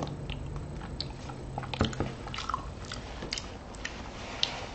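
Close-up eating of Campbell's Chunky beer and cheese soup, soft wet chewing and squishy mouth sounds with a few sharper clicks, quiet and intimate with no talking.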